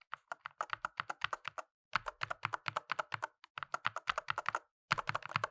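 Typing on a Cherry Xtrfy MX 8.2 Pro TMR keyboard with linear, pre-lubed switches and PBT keycaps: close, crisp clicky keystrokes in quick bursts with short pauses between runs, alone without talk.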